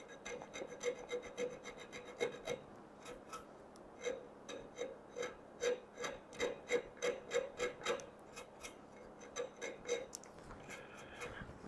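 A wooden mirror frame edge is hand-sanded with 220 grit paper in rhythmic back-and-forth rasping strokes, close and steady, speeding up into quick repeated rubs midway, no talk.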